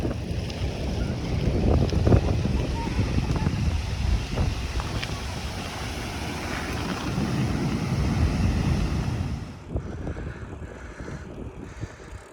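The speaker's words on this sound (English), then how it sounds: "we just came down into El Golfo where there are some humongous, I was going to say gigantic waves" Huge ocean waves crash and roar at El Golfo on Lanzarote, a loud, broad surging wash mixed with heavy wind buffeting the microphone, easing briefly near the end.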